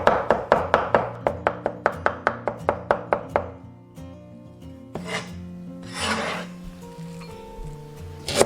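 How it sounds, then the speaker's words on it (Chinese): A knife finely minces crushed garlic on a chopping board in a fast, even run of close, crisp chops that later give way to scraping and softer kitchen handling. "朋友们做这个蒜蓉酱的这个蒜末一定要给它剁细一点。"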